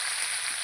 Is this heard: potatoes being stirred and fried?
yes